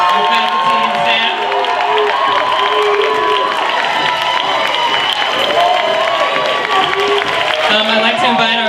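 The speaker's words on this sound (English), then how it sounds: "Please give them a round of applause." An audience at a 2018 Black graduation ceremony claps and cheers for the graduating class, a dense, loud crowd roar with whoops, while a voice carries over it.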